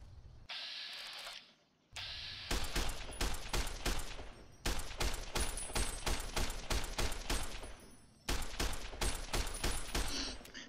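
Gunfire from the video game Fallout New Vegas comes in rapid, loud bursts of automatic shots, with several clusters separated by brief pauses and no voices over them.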